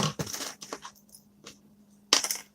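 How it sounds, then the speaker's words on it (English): Small metal keys drop onto a craft table in a few separate bursts, close and brief, a couple of light clinks early and a sharper jangle near the end. "I'm dropping little keys"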